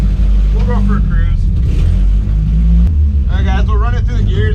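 An NA drift car engine climbs through the gears, a loud low rumble with rising rev sweeps, while someone talks over much of it.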